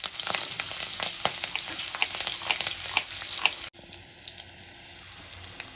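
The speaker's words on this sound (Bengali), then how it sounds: "ফোড়নটা আমি সুন্দর করে ভেজে নেব।" Black cumin and six or seven slit green chillies fry in hot oil with a bright, crackling sizzle that drops abruptly to a quieter, steadier hiss partway through, heard close with no talk.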